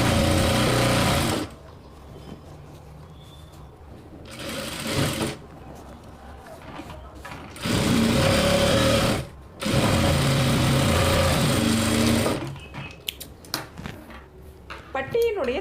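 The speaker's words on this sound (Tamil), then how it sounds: "இப்போ மெயின் கிளாத்தில் நம்ம தையல் போடுறோம்." Sewing machine running in bursts while stitching a blouse patti onto the main cloth, several loud spells of rapid mechanical whirring separated by pauses, with someone talking in between.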